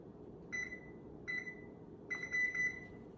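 A kitchen timer being set while crab cakes cook gives two short, high electronic beeps spaced apart, then a quicker run of several beeps. The beeps are clear and close over a quiet room hum.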